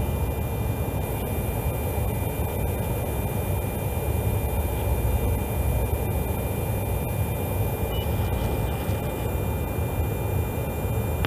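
Inside a fighter jet cockpit there is a constant, even, low roar of engine and airflow, a steady broadband hum that stays unchanged the whole time, with a faint high tone running through it.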